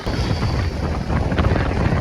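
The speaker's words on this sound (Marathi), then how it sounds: "खूप जोरात असा हा या ठिकाणी वारा वाहत आहे" Strong wind by a river roars and buffets the microphone in a loud, steady rush, with no voices heard.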